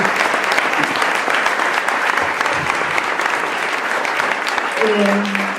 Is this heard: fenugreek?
no